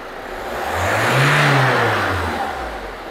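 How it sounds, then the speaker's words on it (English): A car engine on a fuel pressure test, revved once: the pitch climbs smoothly to a peak, holds briefly, then falls back toward idle, close and fairly loud with no talk. "I'm going to give the car a rev"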